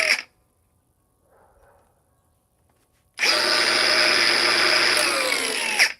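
A handheld grinder with adjustable speed kicks in after a near-silent pause, a loud steady high whine that holds for about three seconds, preceded by a faint short murmur.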